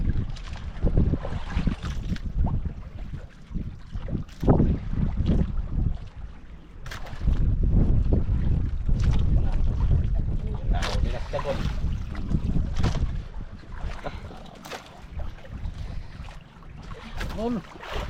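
Strong wind blasts across a fishing boat at sea, roaring and buffeting the microphone in heavy gusts with water sloshing against the hull, while voices talk intermittently beneath the rush.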